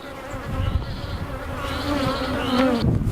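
Honeybees buzz steadily around an open beehive during an inspection, a dense, continuous insect drone swelling close to the listener over the whole stretch.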